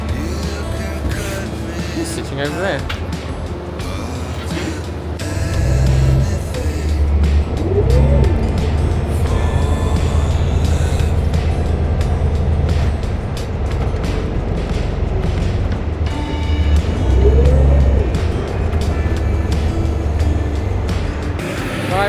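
Steady engine rumble and road noise from inside a moving free bus in New York, with occasional louder surges and faint voices talking briefly.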